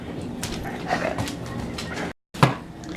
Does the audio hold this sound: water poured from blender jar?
no